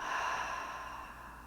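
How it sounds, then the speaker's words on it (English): A slow breath let out through the mouth during a seated relaxation exercise, a soft, steady airy whoosh that fades gradually over about a second and a half, close and quiet, with no talking. "Inhale through the nose, exhale through the mouth."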